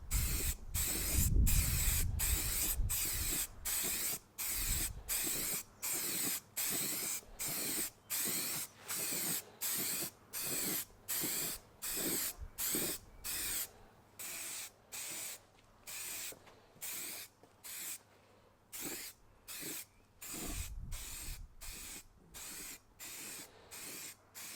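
Car wheel being spray painted with Halfords Gloss Black aerosol, heard as a long series of short, regular hissing bursts with brief gaps between them, fairly close and steady.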